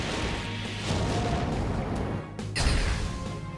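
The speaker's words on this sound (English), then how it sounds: "Now, Red Eyes, destroy the Lava Battle Guard at once! Inferno Fire Blast Attack!" Red Eyes Inferno Fire Blast attack in Yu-Gi-Oh! Legacy of the Duelist: a loud, roaring blast fills the whole clip, swelling partway through and ending in a sharp crashing impact near the end.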